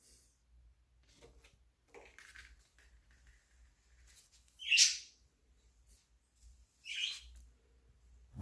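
Pet birds in an indoor bird room give a few sharp chirps and squawks, two louder calls standing out against a quiet room with faint rustling.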